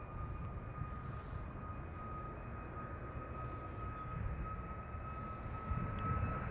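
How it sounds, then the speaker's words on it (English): Boeing 737 MAX 8 jet taking off from the end of runway 27 at East Midlands Airport, a steady distant engine roar with a sustained whine, slowly building in loudness. "The Boeing 737 MAX 8 200 off to Knock."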